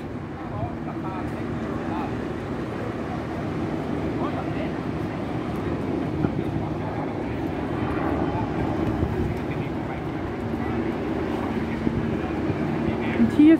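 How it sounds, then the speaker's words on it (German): A helicopter flying overhead near a coastal paragliding landing spot at Puerto Cruz, giving a steady, distant engine drone that holds evenly throughout under faint outdoor background. "Da ist ein Hubschrauber unterwegs."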